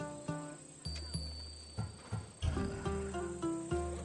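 Hooves clip-clop in a steady trotting rhythm from a horse in Assassin's Creed Odyssey, each footfall distinct and close against a faint ambient hum, with no one speaking.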